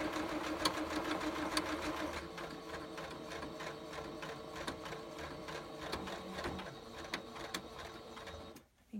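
A sewing machine runs a zigzag stitch with a steady rapid mechanical whirring and regular ticking clicks, continuing for several seconds before stopping abruptly near the end.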